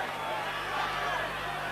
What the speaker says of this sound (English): the applause ringing round Bellevue